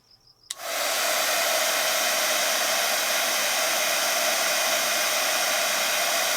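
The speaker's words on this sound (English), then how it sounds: "I have my heat tool up pretty, maybe good 6 inches." A heat tool switches on after a short quiet moment and blows hot air over Copic Acrea marker ink on Grafix Dura-lar film, a steady, loud whooshing roar that continues unbroken to the end.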